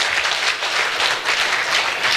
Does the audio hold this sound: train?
no